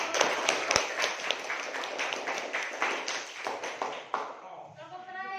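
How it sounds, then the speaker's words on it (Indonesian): An audience claps for a presenting group of teachers in a classroom, a fairly soft, continuous patter of many hands that fades toward the end, with voices talking over it. "beri tepuk tangan untuk"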